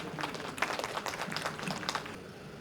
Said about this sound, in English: Can we have the huge round of applause?